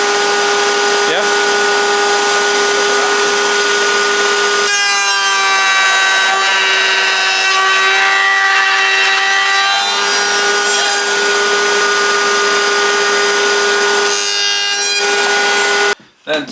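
Rough sawn wooden planks being cut to length with a saw for building a National beehive: a continuous loud, rasping saw noise with a steady whine running throughout, up close, ending abruptly with a brief knock.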